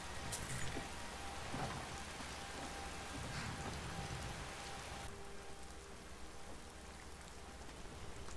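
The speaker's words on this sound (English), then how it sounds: "Hopefully the rain stops." Steady rain falls in the video game Skyrim, a constant soft hiss of drops with faint distant rumbles, quiet and continuous throughout with no talking.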